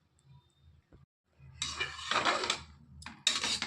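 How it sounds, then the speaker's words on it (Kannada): A pressure cooker lid is opened after cooking broken wheat for payasa, giving close metallic clanks and scraping rattles in two short bursts with no voices. "ಕುಕ್ಕರ್ ಮುಚ್ಚಳ ಓಪನ್ ಮಾಡ್ತೀನಿ."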